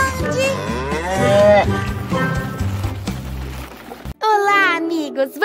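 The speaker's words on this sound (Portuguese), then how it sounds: "Vaca grande." A cow moos loudly and close, a long drawn-out low call, set in a children's cartoon, followed by a short, higher animated vocal sound.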